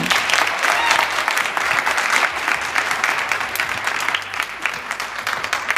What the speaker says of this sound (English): Can we give a hand of applause to this lady?